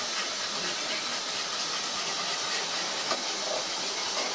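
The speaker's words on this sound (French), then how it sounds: "Je suis désolée pour le bruit que vous entendez, c'est la machine à laver qui tourne." A washing machine runs somewhere in a home kitchen, giving a steady broadband hiss and churning rumble that stays even throughout, with no voices over it.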